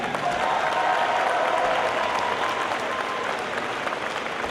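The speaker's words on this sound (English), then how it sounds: "Can we give a round of applause for our rookie teams?" A large crowd applauds rookie robotics teams at a FIRST district competition opening ceremony in a big indoor venue, with dense, sustained clapping held at an even loudness throughout.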